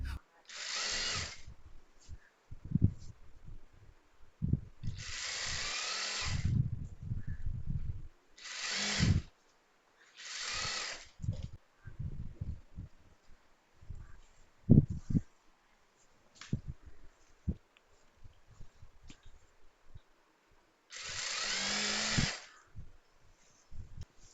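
A sewing machine stitches a saree fall in short motorized bursts, each lasting about a second or two and separated by pauses, with a person talking between the runs of stitching.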